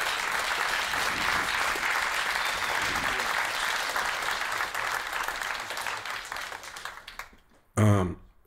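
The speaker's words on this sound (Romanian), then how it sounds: "Și tot să-l aplaudați și pe Vadim Știrbu" A concert audience applauds loudly and steadily with sustained clapping for about seven seconds, then fades out. A brief voice comes in at the end.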